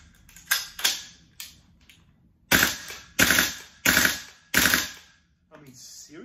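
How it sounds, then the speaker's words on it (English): A gas blowback airsoft rifle fires in bursts in freezing cold around -14°C, sharp snappy cracks in quick clusters, a few scattered shots followed by four distinct bursts at a steady pace, loud and close. "Let's see how the 3-round burst works."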